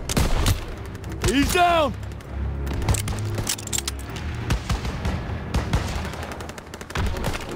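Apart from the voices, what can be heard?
gunfire in the video game Call of Duty WWII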